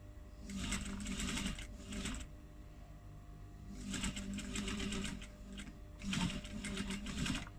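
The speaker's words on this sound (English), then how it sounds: "So I'm just going to stitch from the faux leather here to the faux leather." A sewing machine stitches through faux leather in three separate bursts, each a rapid buzzing whir lasting a second or two, with quiet pauses between them, close and clear.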